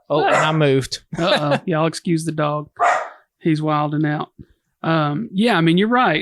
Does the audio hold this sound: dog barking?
yes